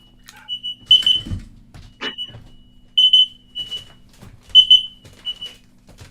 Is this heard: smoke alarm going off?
yes